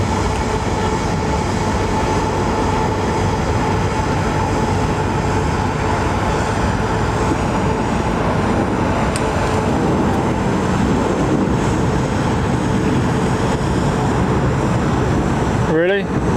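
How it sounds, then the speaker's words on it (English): A Virgin Boeing 787 Dreamliner at London Heathrow Airport makes a loud, unbroken jet engine roar throughout, ending with a short squeak, while people seem to talk beneath it. "We've got Virgin Dreamliner coming out."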